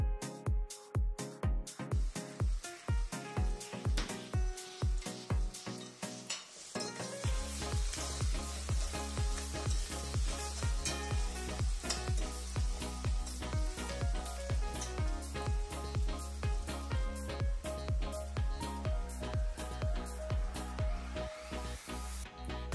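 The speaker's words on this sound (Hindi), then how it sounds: "प्याज हमें गोल्डन ब्राउन होने तक अच्छे से पकाना है।" Onions fry in a pan until golden brown for a green chickpea (hara chana) curry. A steady, soft sizzle runs throughout, broken by regular clicking strokes as a spoon stirs the pan.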